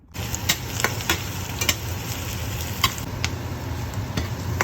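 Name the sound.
garlic sautéing in a pan for pinakbet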